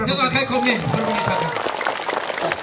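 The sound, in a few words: audience applauding loudly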